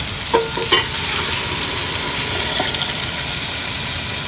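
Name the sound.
tomato sauce dropped into hot pan with sausage and meatballs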